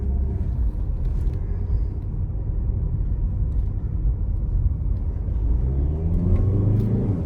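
A 2014 VW Golf 1.6 with DSG gearbox idles with a low, steady engine rumble, then revs up toward the end with a rising whir, heard close and alone.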